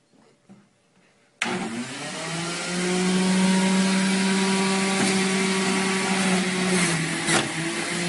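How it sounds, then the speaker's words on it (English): An Omega juicer motor starts abruptly and runs steadily at high speed with a loud, sustained whirring hum, climbing slightly as produce is pushed through; no speech. "Make sure to do the pumping motion because you want to allow the juicer to get that momentum and the speed build up"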